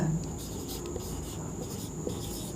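A pen or marker writing on a board during a geography lesson, with close scratchy strokes and small taps under a steady background hum.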